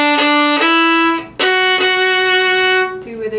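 A fiddle plays the short chorus riff of a song, sustained notes with bright bow attacks and clear changes of pitch.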